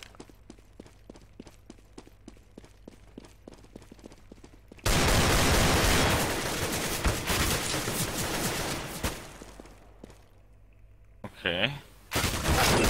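Counter-Strike: Global Offensive gunfire in a prison-themed map, first a run of sharp rapid single shots, then a loud sustained burst of automatic fire and a final short volley, with players talking over it.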